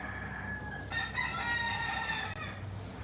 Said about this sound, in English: They have the chickens and stuff.